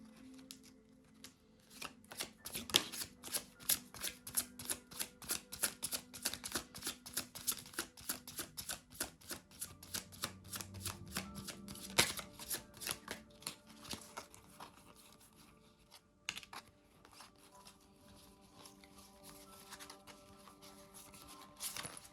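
Tarot cards are shuffled by hand in a quiet room, making a long run of dense, papery riffling and flicking with brief pauses and a few sharper snaps, close and fairly soft throughout.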